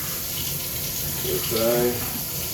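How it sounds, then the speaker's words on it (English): Tap water runs steadily into a sink to rinse a knife, a continuous close hiss with a brief voice rising over it midway. "Wash the knife."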